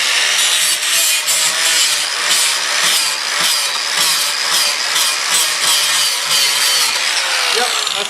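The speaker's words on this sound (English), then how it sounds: "I'm just going to take a flat grinding disc." An angle grinder fitted with a flat grinding disc works against a steel trailer rim, giving a steady, loud, high-pitched grinding whine with rhythmic surges as the disc bites and eases across the metal, continuous throughout.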